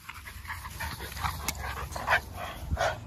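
A dog runs up and down a hill, with panting, yips, small whimpers and the scuffle of its movement close by, loudest in short bursts toward the end.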